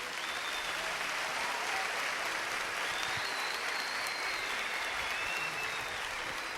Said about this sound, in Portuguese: por exemplo, pode aplaudir.